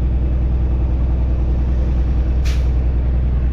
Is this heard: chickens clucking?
no